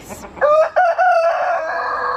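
A rooster crows loudly and close by, a drawn-out multi-part call lasting nearly two seconds with no voices around it.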